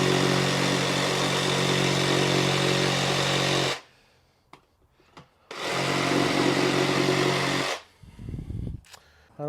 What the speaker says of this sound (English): I think the Sawzall without a blade is the way to go